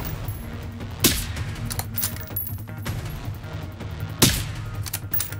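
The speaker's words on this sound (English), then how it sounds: "Launching grenades at it, man." Grenade launcher fire in Generation Zero at a survivor outpost: two sharp, loud blasts about three seconds apart punch out of a steady low rumble and scattered mechanical clatter.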